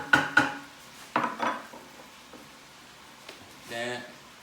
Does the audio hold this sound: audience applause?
no